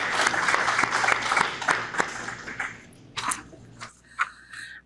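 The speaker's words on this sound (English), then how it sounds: "Can I get a round of applause for Sonia?" A crowd applauds for Sonia at a service dog trainer graduation in a prison yard, clapping that fades out after a few seconds before a voice begins speaking.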